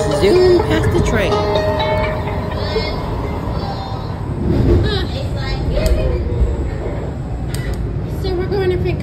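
A Washington Metro subway train runs through a tunnel with a continuous loud rumble and rattling, while people talk over it throughout.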